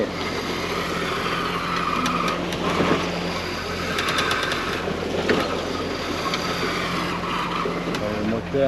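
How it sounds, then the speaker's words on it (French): A boat engine idles at about 1100 rpm while the hull rides over swell, giving a steady low rumble with broadband wash. Voices come through faintly over the constant drone. "Le moteur il est à 1100 tours."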